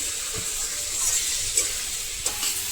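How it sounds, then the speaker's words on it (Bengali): Potatoes sautéing with spice masala in a pan make a soft, steady sizzle and hiss, with a few light scrapes of stirring, close by and fairly quiet. "আমি দেখো মশলাটার সঙ্গে আলুটাকে একটু কষিয়ে নিচ্ছি"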